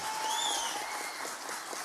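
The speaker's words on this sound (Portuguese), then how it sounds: "Vamos aplaudir o Senhor." A church congregation at a communion service applauds, a brief, fairly faint wash of clapping with a few sustained tones ringing above it.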